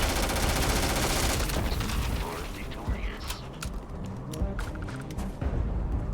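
An alien creature shooting in the Starfield video game: heavy rapid gunfire roars at first, then thins into scattered cracks and mechanical clatter while a voice talks over the action.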